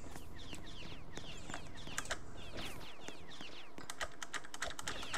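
Computer keyboard keys clatter in quick irregular bursts during a Roblox session, fairly close and steady throughout with a faint background hum, no voices.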